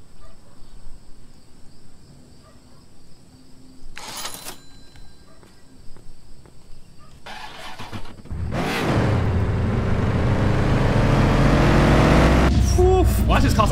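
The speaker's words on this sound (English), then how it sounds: "Why does this car sound the best in the game?" A Lamborghini engine in a video game idles quietly with scattered clicks, then surges into a loud, sustained roar of revving from about the midpoint to the end.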